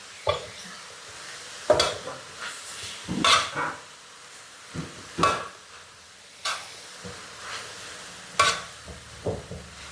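Water spinach and pork stir-fried over high heat in a pan, with intermittent scraping and tossing strokes over a soft sizzle, each stir loud and close with quiet gaps between.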